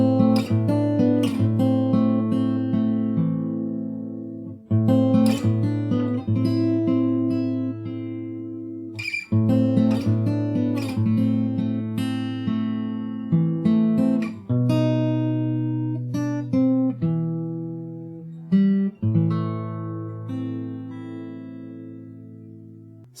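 Fingerstyle acoustic guitar plays the main riff from The Last Of Us 2 theme, plucked notes ringing over a steady picked pattern for about twenty seconds, close and clear with no voices.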